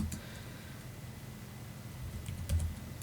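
Soft, steady typing on a computer keyboard while entering a name into a spreadsheet, with a few clicks, light taps and one louder keystroke near the end.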